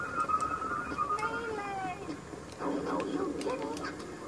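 Several cats meow and yowl in The Simpsons Game, a video game, with drawn-out wavering cries at moderate volume under steady background game noise, while people talk over them.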